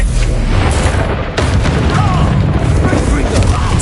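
Bombarda blasting spell going off in Hogwarts Legacy: loud booming blasts and sharp crashes amid chaotic combat noise, with a sudden burst standing out near the middle.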